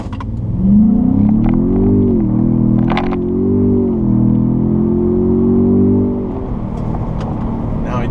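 A 2017 Ford Raptor truck launches on pavement, its engine revving up loudly and holding a strong, steady roar as it accelerates, tire spin and rumble close by, then easing off.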